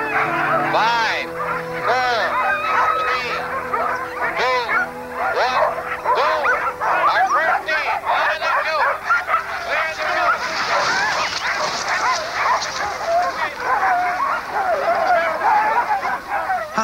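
Huskies bark, yip and howl in a dense excited chorus at the start of the 1979 Iditarod sled dog race, loud and continuous, with some voices mixed in.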